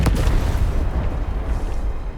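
A deep booming blast from an explosion in the video game Arknights: Endfield opens, then a heavy low rumble rolls on and slowly fades, loud and close.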